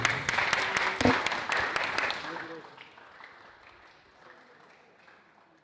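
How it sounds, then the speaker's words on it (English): Applause for the race winner at the Japan VGP event at Teleios Dome, with sharp close claps over crowd clapping that fades out after about two seconds, leaving faint room noise and a low voice. "A round of applause for your winner today, please, Abdul Hadi."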